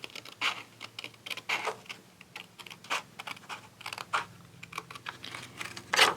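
Scissors snip along the edge of a stamped paper image, giving a run of short, crisp clicks and scratchy cuts in an irregular rhythm, close up and fairly quiet, with no talking.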